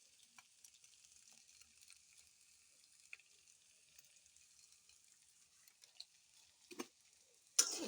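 Noodles with masala are stirred in a pan, a faint steady sizzle with scattered soft ticks of the utensil and a louder scrape at the end.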